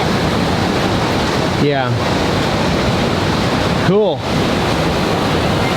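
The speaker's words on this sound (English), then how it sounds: "The water is just crazy turbulent." Turbulent river water rushing loudly and steadily through the Rogue Gorge on the Rogue River in Oregon, a constant close roar with two brief voices speaking over it.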